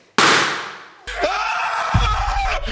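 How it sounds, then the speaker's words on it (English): A balloon pops with one sharp, loud burst that fades over about a second, followed by busy studio noise and voices at a TV dating show. "do you want to pop your balloon or are you keeping it inflated?"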